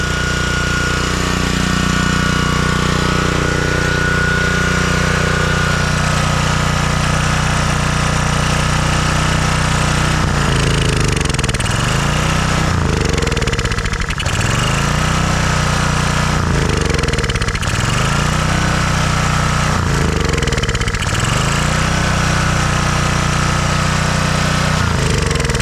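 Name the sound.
pressure washer gasoline engine running with choke on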